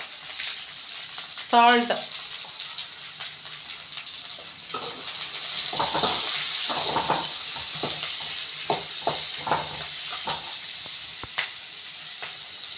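Onion and dried red chilies frying in hot oil for tomato chutney: a steady, close sizzle with stirring clatter and scraping, while a voice briefly speaks over it.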